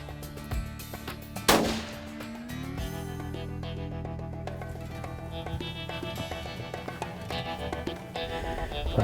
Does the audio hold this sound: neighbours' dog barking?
no